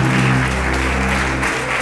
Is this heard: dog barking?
no